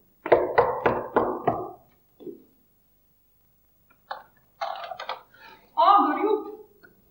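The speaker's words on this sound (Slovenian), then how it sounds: "In potrkam na vrata." Four quick, sharp knocks on a door sound close and distinct, followed by a short pause, then a person speaking.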